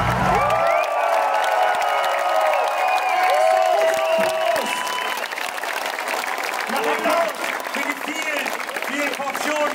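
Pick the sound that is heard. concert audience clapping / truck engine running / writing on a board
concert audience clapping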